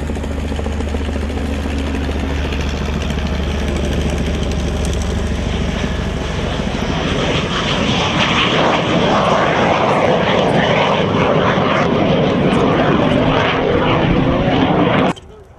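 A Jet Provost T5A trainer jet, owned by the chairman of Patriot Aerospace, flying at the Coventry Air Show, its engine a loud, steady roaring whine that swells slightly as it passes, then cuts off abruptly at the end.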